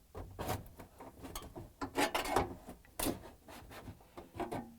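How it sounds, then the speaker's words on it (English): A metal heat shield in a Frigidaire/Electrolux refrigerator being worked loose with large pliers, close scraping and rubbing with uneven creaks and clicks in short bursts. "Using the large pliers, I'm going to pull out the heat shield"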